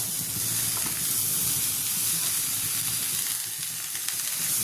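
Fresh dill leaves frying and wilting in a hot pan give off a steady, close sizzle, with faint stirring scrapes running through the whole stretch and no voices.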